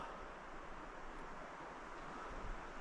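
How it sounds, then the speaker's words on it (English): Steady wind roars and buffets the microphone at the Hope Slide memorial site, a constant broad rushing with no voices. "except it's very windy."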